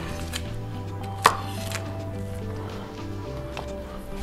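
Knife cutting a leek in half on a cutting board, one sharp close chop standing out over a quiet kitchen background, with a few softer knocks around it.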